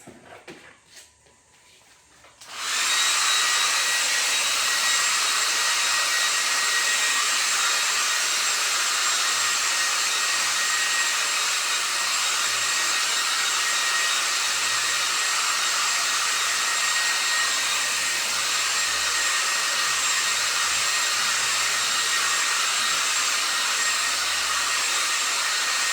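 A hair dryer blow-drying wet paint on a painting switches on after a brief quiet moment, then runs as a loud, steady, close whir.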